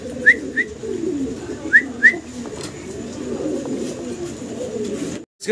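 A pair of Polish line pigeons keeps up a soft, continuous cooing, broken by a few brief high whistle-like chirps early on, before a short silent gap near the end.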